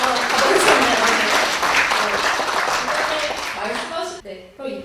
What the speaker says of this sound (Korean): 다시 한번 따뜻한 박수로 맞아주시기 바랍니다